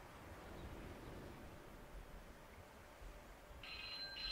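An old-style telephone ring used as a bacon alarm sounds faintly and briefly near the end, over a quiet windy outdoor background.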